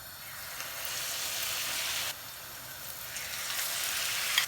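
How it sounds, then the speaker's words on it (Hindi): Suji aloo snacks deep frying in hot oil give a steady, loud broadband sizzle that stays constant and close, with a brief dip midway and no voices. "बस इसी तरह हमने दूसरे भी फ्राई कर लेने हैं।"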